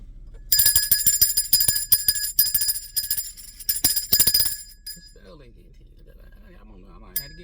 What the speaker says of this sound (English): while I ring this bell of enlightenment